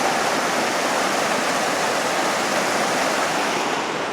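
Boxley Creek rushes under a bridge in a loud, steady, unbroken wash of flowing water that fills the whole stretch, with no voices.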